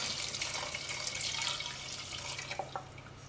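Liquid poured into a pan: tomato juice and stock splash and trickle steadily for a few seconds, close and fairly loud, with a few drips near the end.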